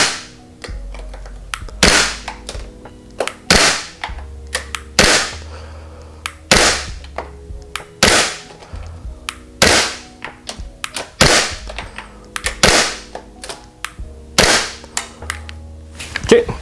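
Airsoft Glock-style pistols, a WE-Tech and an Elite Force 19X, fired at a target ten feet away, giving a series of sharp, loud, evenly spaced snapping shots with a faint clack after each, heard close and with no voices.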